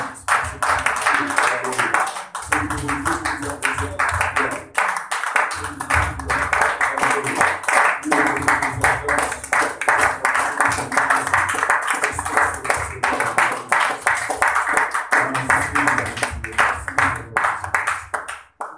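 A church congregation applauds at length, dense rhythmic clapping that stays loud and continuous for the whole span, with voices mixed in and a brief spoken line.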